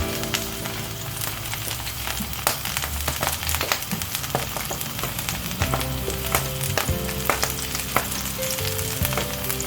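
Garlic sizzles and crackles steadily in hot vegetable oil, a dense close frying hiss with occasional sharper pops and stirring scrapes, continuous and fairly loud, with nobody talking.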